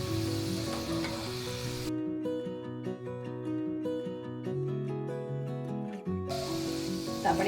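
Thin bitter gourd slices fry crisply in hot oil and are stirred. A steady sizzle is heard at the start and end, and a short stretch of music replaces it in the middle.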